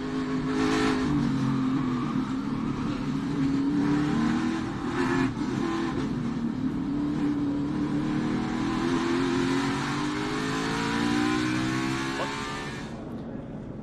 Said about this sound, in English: Listen to the throttle.